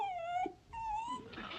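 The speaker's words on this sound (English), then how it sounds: "Sounds like Daisy Bell, the miller's dog." A dog, the miller's dog Daisy Bell, whimpers in two drawn-out, high wavering whines with a short break between them, heard at moderate distance with no talking.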